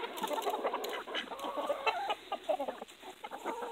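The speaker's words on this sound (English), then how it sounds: "They're very happy chicken." Homestead hens clucking while being fed, a busy chorus of soft, overlapping clucks and chatter throughout, close by, with no talk.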